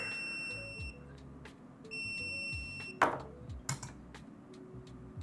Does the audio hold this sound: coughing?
no